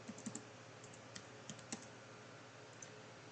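Computer keyboard typing during CAD work, a few soft scattered keystrokes in short clusters over a faint steady background hum, close and quiet.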